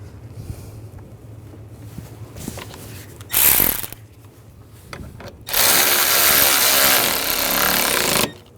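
Power tool driving the radiator mounting bolts on a 2008-2012 Jeep Liberty 3.7L V6: two loud close bursts of whirring drive, a short one and a longer sustained run, with quieter workshop clatter between them.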